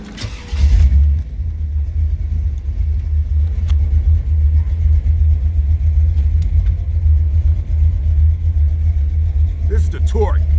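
Buick 455 Stage-1 V8 in a Regal T idling and creeping forward on torque alone with the brake held and a broken throttle cable, a deep steady rumble throughout with a brief louder surge at the start and a few clicks near the end.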